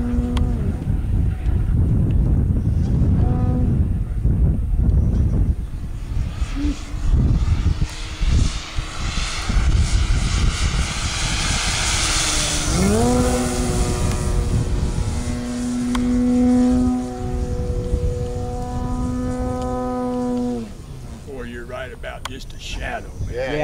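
The 50cc engine of an Edge 540 model airplane in flight, droning loudly and rising and falling in pitch as throttle changes, with people talking close by over it throughout.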